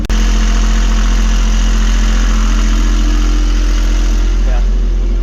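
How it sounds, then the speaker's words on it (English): A new marine engine on a catamaran runs steadily at idle, a loud continuous low drone with a constant mechanical hum and faint vibration throughout. "It runs cooler than the old engine because it's got a really big water pump on these."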